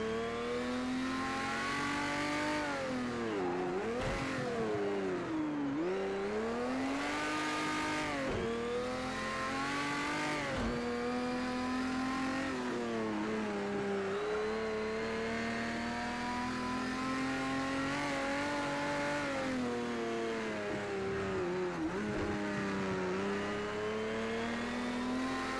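A Porsche 917k racing car lapping the Nordschleife in Project CARS 2, its engine howling steadily and loudly throughout, rising and falling in pitch with repeated gear changes and revs.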